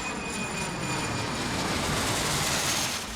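A DHL Boeing 757 jet engine gives a steady, loud, broadband roar on the ramp before takeoff. It holds evenly throughout, with no talk.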